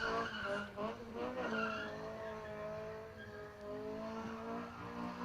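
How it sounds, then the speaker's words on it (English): A 4-cylinder class race car skids with its back wheels locked up, a sustained, steady tire squeal over a droning engine, heard from a distance for several seconds. "Back wheels totally locked up."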